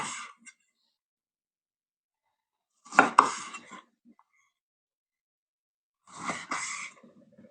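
A knife slices a lime into wedges on a board for a caipirinha in three separate bursts of cutting and clinking, each a second or so long, with near silence between them.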